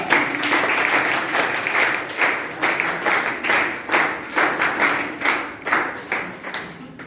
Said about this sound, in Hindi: भगवान कृष्ण जी के लिए तालियां बजाएं भैया